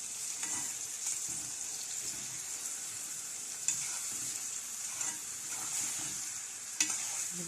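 Peas and onions sauté in a pot with a steady, faint sizzle, while a spoon scrapes and stirs through them in repeated strokes, with a couple of sharper knocks against the pot.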